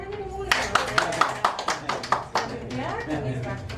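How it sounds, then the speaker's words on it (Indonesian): A small gathering at a lawyers' association visit claps in a loose series of sharp, close hand claps, about a dozen distinct hits, with voices murmuring underneath. "Tepuk tangan ini mulai."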